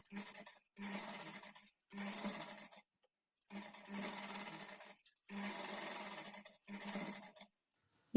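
A sewing machine stitches a frill onto a blouse back neck in five or six separate bursts of steady whirring, each a second or so long, with short pauses between runs.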